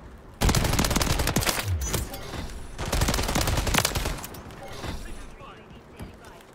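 Dense rapid gunfire from Call of Duty rattles in sustained automatic bursts, loud and close, with a short pause partway through before firing resumes; a voice talks over parts of it.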